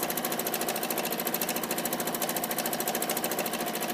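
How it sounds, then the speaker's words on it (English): A sewing machine runs steadily at high speed during free-motion pebble quilting, stitching tight circles over and over; the close, continuous rapid needle chatter never pauses and no voices are heard. "Sometimes I like to go over each circle 2 or 3 times just to get it more densely quilted."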